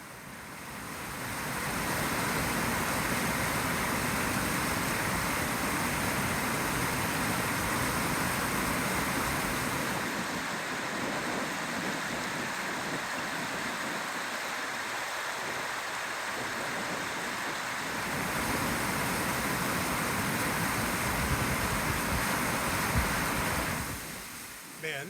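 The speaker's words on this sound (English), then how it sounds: "the sounds of the confluence of the Maury and James River near Glasgow" Flowing river water at the confluence of the Maury and James Rivers near Glasgow rushes in a steady, loud, broad wash that holds constant for about twenty-five seconds with no voices.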